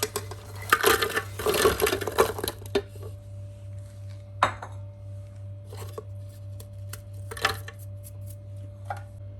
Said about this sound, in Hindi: इन बिस्किटों को हम बारीक पीस लेते हैं